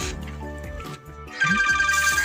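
A phone ringtone plays loudly in a Sindhi comedy sketch, a bright electronic melody that cycles through repeated tones with a brief dip before the tune swells again.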